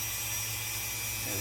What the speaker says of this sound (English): I'm going to grind this area right here